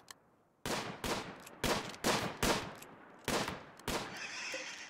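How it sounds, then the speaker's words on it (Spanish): Gunfire from the video game RimWorld comes as a string of loud, sharp shots with short gaps after a quiet start, and the last shot is followed by a lingering hiss. "Creo que se comió un disparo."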